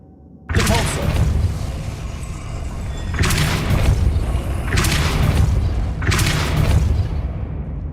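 Depulso spell effects from Hogwarts Legacy on PS5: three loud, booming blasts at steady intervals, each a broad burst that decays into a rumbling tail, with no talking.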